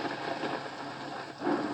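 Simulated thunder from a HoMedics white noise generator: a steady, dense rumbling wash of storm noise with a slight swell near the end, no voices over it.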